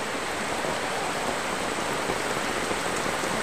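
Heavy rain pours steadily, a dense, even hiss of drops hitting surfaces with no pauses and no talking.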